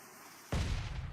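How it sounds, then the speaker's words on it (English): A single mortar shot in PUBG Mobile lands as a sudden, heavy boom after a brief near-silence, followed by a lingering low rumble. "Those mortars getting out there, but just not quite far enough."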